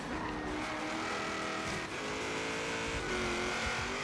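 A Ford race car engine in the video game Forza Horizon 3 roars loud and continuous at high speed, near 300 km/h. A sustained high-revving drone carries faint tire noise throughout.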